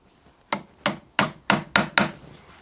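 Six sharp metallic hammer taps fall in an even rhythm, close and loud, as pop marks are punched into the valve of a vintage steam oil pump. No one speaks.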